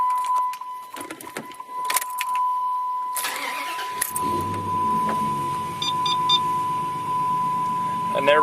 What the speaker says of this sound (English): we start the vehicle with the dead battery.